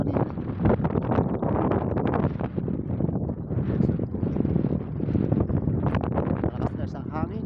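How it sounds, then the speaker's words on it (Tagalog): Strong wind buffeting the microphone outdoors on a fishing trip, loud continuous gusty roaring throughout, with talk mixed in under it. "Malakas guys ang hangin."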